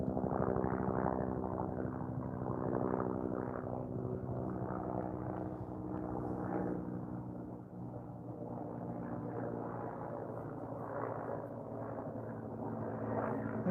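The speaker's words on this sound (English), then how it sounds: "I think the helicopter that's flying overhead is search and rescue." A powerful search and rescue helicopter passes overhead on a day out with horses, its rotor drone steady and fairly loud throughout, swelling and easing slightly without talk.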